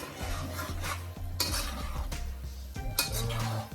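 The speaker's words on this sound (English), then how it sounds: "Just gonna stir that around." A spoon stirring sweet chilli shrimp pasta in a pan, with continuous scraping and clinking against the pan over a faint sizzle, close and steady with rhythmic strokes.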